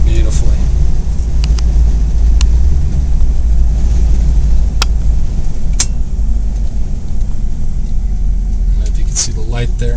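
An old Cadillac Sedan DeVille idling, a continuous low rumbling engine drone heard up close, with someone talking over it and a few faint clicks.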